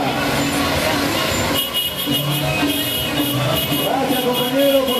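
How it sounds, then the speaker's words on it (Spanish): Vehicle horns toot repeatedly from passing traffic during a university students' candlelight march, layered over steady crowd and street noise with voices throughout. "Gracias, compañero, por sonar en la bocina de tu vehículo."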